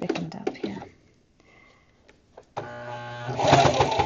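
A sewing machine stitching thick fabric for coasters, bursts of mechanical whirring and motor hum separated by pauses, with a louder sustained run toward the end; a voice speaks briefly near the start.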